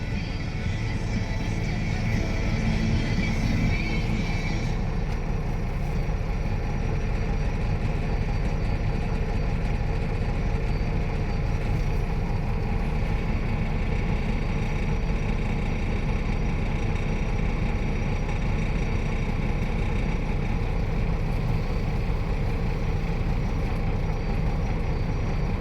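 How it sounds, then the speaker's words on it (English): A Caterpillar 980M wheel loader's heavy diesel engine drones steadily at close range, a dense low rumble that holds unchanged throughout. "That's a big effing loader, man. Got joysticks, no steering wheel."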